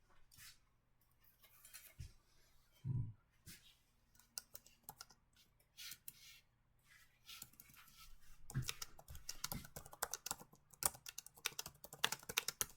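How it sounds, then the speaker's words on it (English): Someone types on a computer keyboard nearby: scattered, uneven key clicks at first, then faster and denser bursts of tapping toward the end, quiet throughout with no talking. "I was typing something in there."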